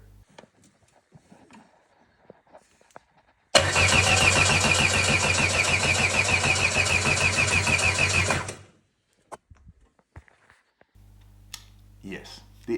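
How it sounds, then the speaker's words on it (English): The engine of a Norma M20B cranks steadily for about five seconds, a rapid rhythmic churning that never catches, then stops, with quiet clicks before and after. "engine does not start"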